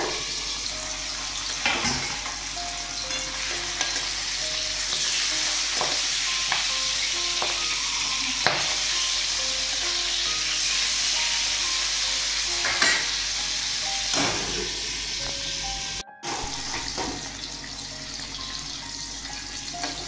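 Boal fish frying in a covered pan of shallow oil, a dense continuous sizzle with frequent pops and spluttering bursts, briefly cut near the end.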